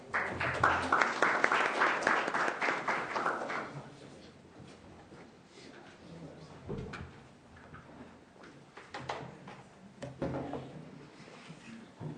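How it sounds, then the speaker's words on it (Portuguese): Applause in a Brazilian Senate inquiry hearing room for senator Lídice da Mata, a fairly loud burst of clapping for a few seconds that quickly dies down into scattered faint claps and small knocks. "Uma salva de palmas para ela."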